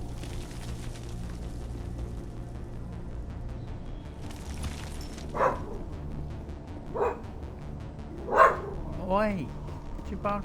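A dog in the Mass Effect game barks several times in the second half, sharp separate yelps rising over a steady background drone.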